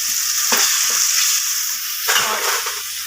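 Chicken karahi with ground masala and butter fries in a pan, a loud continuous sizzle broken by a few bursts of stirring, close and without talk.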